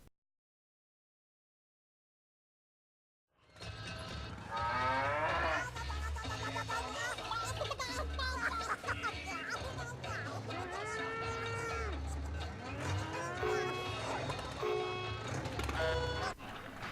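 Cow moos from the video game Rabbids Go Home. After a few seconds of silence, repeated long bovine lowing rises over a steady rumbling game background with faint crowd-like noise.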